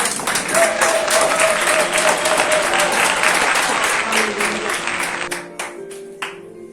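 A church congregation applauds and claps together in praise of the Lord, a dense sustained wash of hands that thins and fades out toward the end, with a faint sung or spoken tone underneath.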